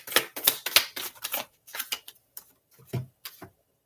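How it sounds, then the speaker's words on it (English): Tarot cards being shuffled by hand in a series of quick, crisp riffling bursts, faster at first then slowing into sparser flicks, close and fairly quiet with no talking. "So we're gonna go ahead and start shuffling."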